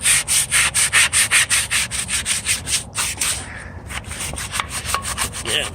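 A cloth is rubbed back and forth over a chrome or alloy wheel to clean and polish it, making rapid rhythmic swishing strokes that are loud and close at first, then softer and less regular.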